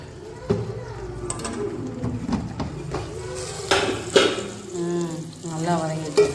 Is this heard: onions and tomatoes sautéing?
yes